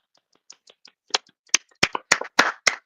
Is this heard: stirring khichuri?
no